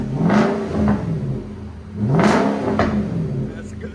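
Nissan Armada 5.6L V8 with an aftermarket exhaust revs twice, each blip rising to a loud bark and falling back to a rumbling idle, heard close up outside the vehicle.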